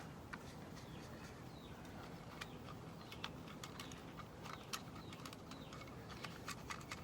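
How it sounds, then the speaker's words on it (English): Finches, parrots and magpies chirp outdoors in short, scattered calls, some sharp and bright, over a soft steady ambient hiss, fairly distant and quiet. "Birds singing."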